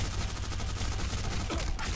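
Rapid gunfire in the online shooter Black Squad, a dense continuous fusillade of loud bursts across the whole stretch with no clear pauses.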